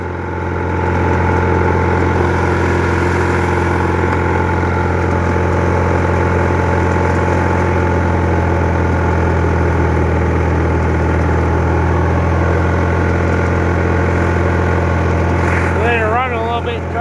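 An MTD lawn tractor engine idles steadily after a cold start in cold weather, a constant, near, mid-pitched drone lasting the whole stretch, with someone talking over it toward the end.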